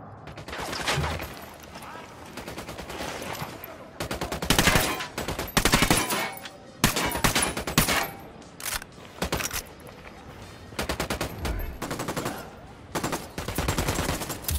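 Bursts of automatic gunfire and fusillades from the tactical shooter Ghost Recon, loud and close, coming in repeated volleys with short gaps, mixed with game speech.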